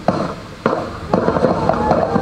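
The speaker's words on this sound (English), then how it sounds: "They're shooting." Three sharp gunshots ring out during a military special forces training exercise, evenly spaced about half a second apart, each a loud crack followed by a short reverberant tail, with faint background noise between.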